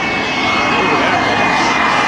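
A pure jet engine on a 10,000-horsepower jet car at the 2005 Andrews AFB airshow roars loudly and steadily throughout, a dense, continuous rush of broadband noise.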